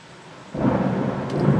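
Thunder from close lightning strikes in a southeastern Pennsylvania thunderstorm: a deep rumble swells abruptly after a quiet start and rolls on loudly over steady rain, with no voices.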